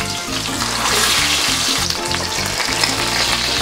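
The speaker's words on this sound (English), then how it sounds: "once that crust is golden browned, it's time to flip" Flounder fillets pan-fry to a golden-brown crust, giving a loud, steady, close sizzle that holds without a break from start to finish, with no voices over it.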